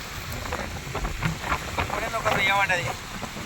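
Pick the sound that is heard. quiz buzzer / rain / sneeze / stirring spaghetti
rain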